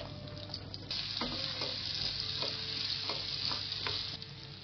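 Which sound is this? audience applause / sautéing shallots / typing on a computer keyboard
sautéing shallots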